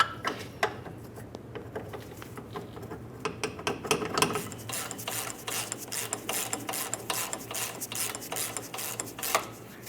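A ratchet tightens the rear mounting bolt on the rear control arm of a 2003-2011 Mercury Grand Marquis, a close run of quick rasping clicks in uneven bursts with some metallic rubbing, no talk.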